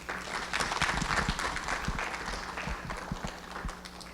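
An audience applauds during a community organization's live-streamed event, the clapping moderate and fairly close, with some louder individual claps standing out before it thins toward the end.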